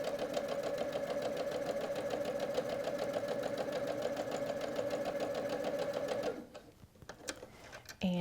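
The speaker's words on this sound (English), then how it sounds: "So I'm sewing all the way down." A sewing machine stitches steadily down the quilted lining of a zipper pouch, a fast even mechanical hum-and-knock that runs for about six seconds, then stops, followed by a few soft handling clicks; a voice talks over it.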